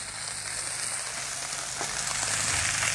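A ribeye steak sizzles on a hot Blackstone griddle, giving a steady, close, dense frying hiss that swells slightly toward the end, with no talking.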